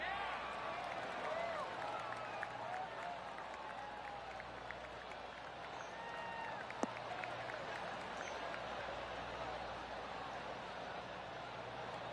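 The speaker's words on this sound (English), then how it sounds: "golf clap." Polite golf clap from a gallery in the video game PGA Tour 23 as a player tees off the final hole with the lead, a steady soft spread of clapping under continuous game ambience, with one sharp click partway through.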